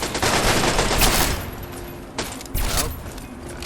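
Rapid gunfire at a hostile target in Fallout 3, a loud opening burst of shots followed by a few sharper separate cracks after a short lull, with no voices.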